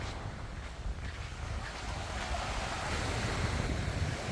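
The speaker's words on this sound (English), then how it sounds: "Haad Yao is the longest beach on Koh Phangan, and this is a very popular beach." Waves wash onto Haad Yao beach on Koh Phangan, Thailand, a broad, soft, continuous surf roar with some wind buffeting, fairly faint and steady with no voices.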